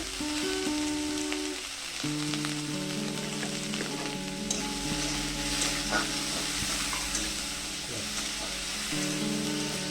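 Mixed vegetables with salt and turmeric fry in a pan, a steady close sizzle with stirring scrapes, while a sustained tonal hum comes and goes underneath, no speech.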